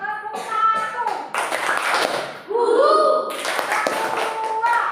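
Schoolchildren in a classroom clap together in a rhythmic clapping pattern, sharp bursts of hand claps mixed with children's voices chanting along, loud and close.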